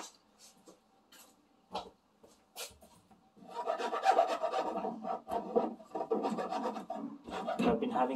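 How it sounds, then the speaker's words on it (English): A file rasps at a hole in a guitar's wooden control cavity, starting as a few sparse scrapes and then building into steady, close, fairly loud strokes. "I would have to enlarge this hole a bit."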